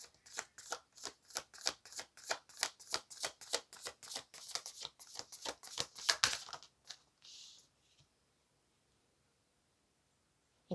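Tarot cards shuffled by hand, a long run of crisp, rhythmic riffling flutters repeating close up for about seven seconds before tapering into a softer rustle and then quiet.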